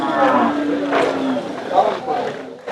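A bullock lows with long, drawn-out moos at a bustling Monday cattle market in Belhe, the calls close and loud over the chatter of the crowd.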